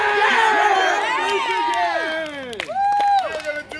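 A camp crowd cheers and shouts together outdoors at Camp Betz in Berrien Springs, Michigan, many voices rising and falling in a loud, sustained group yell, with a few individual shouts near the end.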